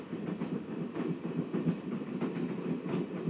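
Steady clickety-clack of a train rolling along rails in the Broken Sword adventure game, a moderate rhythmic rumble with repeating wheel beats, heard alone without talk.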